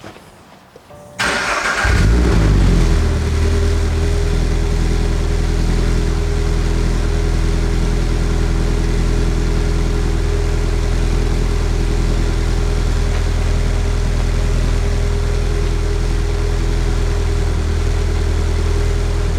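Toyota GR86 with a Greddy Supreme SP exhaust cold starting: a short crank catches into a loud, deep-toned burst, then settles into a steady, close idle that holds to the end.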